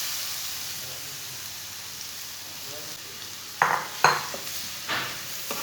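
Grated carrots for gajrela hit a hot pan after lightly browned fennel seeds. A quiet, steady sizzle runs throughout, then several sharp, loud spatula scrapes and stirs come near the end, with no talking.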